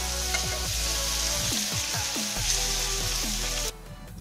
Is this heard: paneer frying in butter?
yes